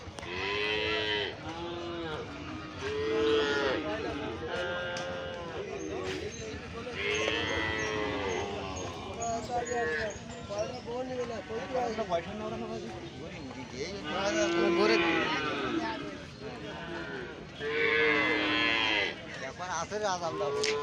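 Cattle at a livestock market moo repeatedly, long drawn-out lowing calls rising every few seconds from several animals, some close and loud, over a constant crowd murmur with people talking.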